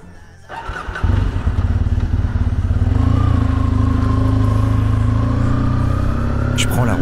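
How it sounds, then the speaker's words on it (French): A 30-year-old motorcycle starts on a road in Auvergne: a brief thump, then the engine catches and settles into a loud, close, steady chugging idle that holds throughout and rises briefly near the end. "Je prends la route, la moto se comporte super bien"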